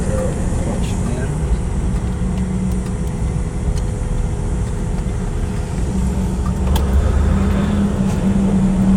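Manual-transmission car idling and pulling away with a steady low engine rumble throughout, close inside the cabin, rising slightly near the end as it drives off; voices talk briefly over it.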